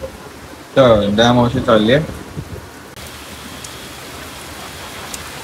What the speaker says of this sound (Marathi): पुन्हा हेवी पाऊस चालू झालाय